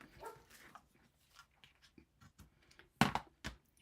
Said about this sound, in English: Now she's going to start barking.